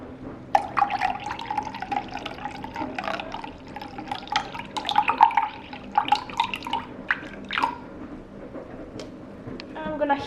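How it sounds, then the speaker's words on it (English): Still mineral water is poured into a vessel for bread roll dough, with a trickling, splashing stream that starts and stops in uneven bursts over a faint background hum. "we're gonna add 75 grams of mineral water"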